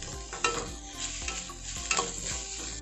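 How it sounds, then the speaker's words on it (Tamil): Capsicum and other vegetables being mixed with a utensil in a hot pan for egg hakka noodles, giving a steady sizzle under a series of scraping stirs, close and moderately quiet. "ஆட் பண்ணிவிட்டு நல்லா மிக்ஸ் பண்ணிக்கோங்க."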